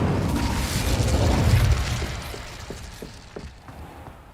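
A fiery burst from the Incendio spell in Hogwarts Legacy, a loud booming whoosh that swells and then fades into scattered crackles and small pops.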